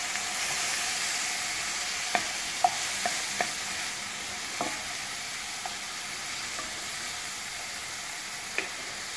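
Langoustines sizzle steadily in a hot pan, a continuous broadband frying hiss with a few brief pops and stirring clicks scattered through, moderately loud and close with no voices.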